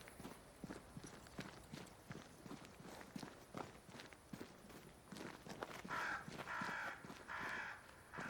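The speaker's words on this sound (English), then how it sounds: "crows. They flock to that great tree up there." Crows cawing in the video game Banishers: Ghosts of New Eden, several calls bunched toward the end over a steady wash of footsteps and ambient game sound.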